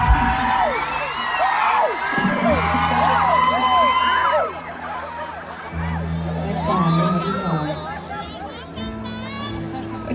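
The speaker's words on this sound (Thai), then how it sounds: "ตะโกนในหูพี่ฟาร์มได้เลยนะคะ" A lively crowd at a public event shouts, whoops and cheers at close range, with children's shouts and overlapping chatter rising and falling throughout, over a steady low background hum.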